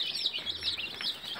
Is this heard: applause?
no